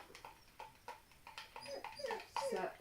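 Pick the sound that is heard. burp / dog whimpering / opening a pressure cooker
dog whimpering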